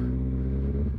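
A 2008 special edition Kawasaki ZX14 with a full Kaufman exhaust, Power Commander 5 and modified air intake makes a brief, steady, close engine rumble rich in low harmonics.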